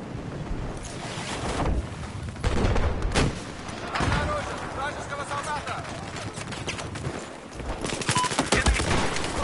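Automatic gunfire sprays in rapid, loud bursts during a Battlefield 4 match on the Lancang Dam map on PS4, the rattling volleys stopping and restarting several times over close, noisy battlefield ambience.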